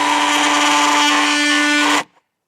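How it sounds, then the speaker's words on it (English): Oscillating multi-tool cutting into cabin siding, a loud steady high-pitched buzzing whine held close for about two seconds before it abruptly stops. "I'm going to practice on this guy here using the multi-tool"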